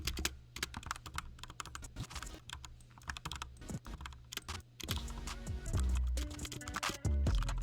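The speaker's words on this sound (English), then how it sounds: "I'm just gonna do some keyboard ASMR." Rapid, close-up keyboard typing with crisp clacks and occasional louder key thumps, no talking.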